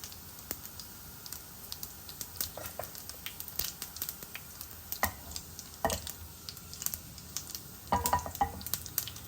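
Cumin seeds crackle in hot oil alongside a little urad dal, with scattered sharp pops and spits at an irregular, fairly busy rhythm over a low, steady frying hiss, close and moderately quiet, with no talking.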